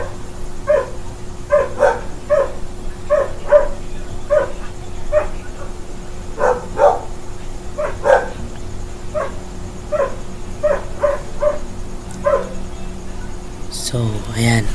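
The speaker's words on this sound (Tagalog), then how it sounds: "Itong mga aso itong ingay naman." Dogs bark repeatedly at a moderate distance, irregular yips and barks spaced every second or so over a constant low electrical hum.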